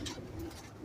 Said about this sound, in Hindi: डब वाले कबूतर हैं ये